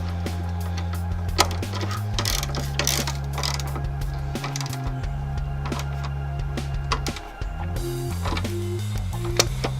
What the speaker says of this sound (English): make sure these 3 nuts are super tight. And once again, that's just a 14mm socket.